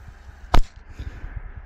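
A small firecracker bursts in snow outdoors, a single short sharp bang, close and loud against quiet surroundings.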